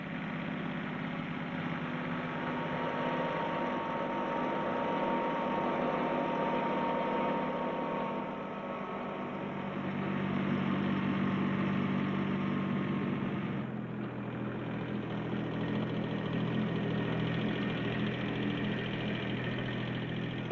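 A 16-horsepower three-cylinder Ford 1210 compact tractor engine runs steadily with a low, continuous drone, close and even in level, working during deep subsoiling, with no talk.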